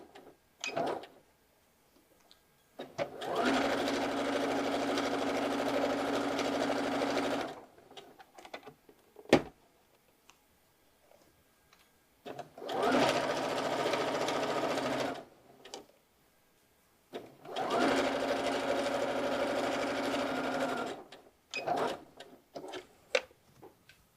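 Sewing machine stitching a side seam pocket on a garment, three steady runs of rapid mechanical whirring a few seconds each, separated by quiet pauses with small clicks and handling noises, close and moderately loud, no talking.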